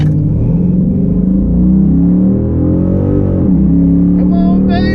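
A Chrysler 300 SRT8 with bolt-on upgrades and a transmission shift kit launches from raised RPM, its loud, close engine rumble climbing steadily in pitch under hard acceleration.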